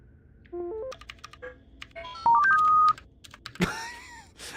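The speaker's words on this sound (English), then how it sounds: "That sound effect with the keyboard clickies was so perfect." Keyboard clicking sound effect from the video game Heartworm: a run of rapid electronic key taps and rising beeps, sharp and clear, ending in a louder click and sweep.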